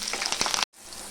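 Garlic cloves, dried red chillies, curry leaves and tempering spices sizzle loudly in hot oil, a dense crackling hiss that cuts out briefly and then resumes more softly.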